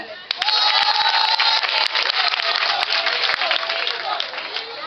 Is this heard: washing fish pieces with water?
no